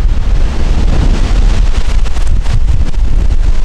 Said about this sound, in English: This wind is horrible, horrible.